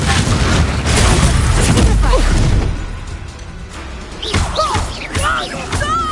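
Bombarda and Confringo spells explode in Hogwarts Legacy: heavy booming thuds and crashes in quick succession, loud and close, then quieter whooshes and clatter with spell effects over a busy mix.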